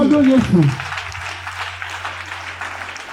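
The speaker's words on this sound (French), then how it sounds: "Acclame-toi pour Jésus" A church congregation applauds and cheers for Jesus during a French-language sermon, with scattered clapping and acclamation under a preacher's voice.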